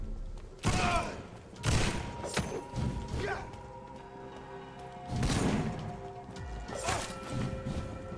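Blood missile ability being cast in the vampire action game Vampyr, heard as several loud whooshing crashes and thuds at uneven intervals, with softer rumbling impacts between them.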